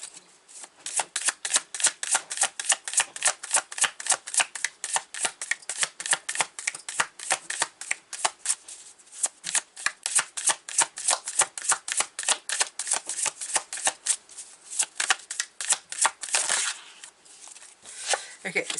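Tarot cards being shuffled in a long, fast run of crisp riffling flicks close to the microphone, with brief pauses between bursts and no voice over it.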